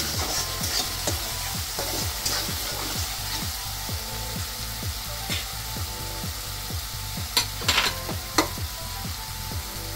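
Lentils with red chilli powder cooking in a pan, a continuous close sizzle broken by regular rhythmic scrapes of a spatula stirring, with a few sharper clinks near the end.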